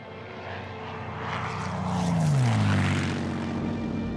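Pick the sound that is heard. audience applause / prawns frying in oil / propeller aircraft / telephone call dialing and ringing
propeller aircraft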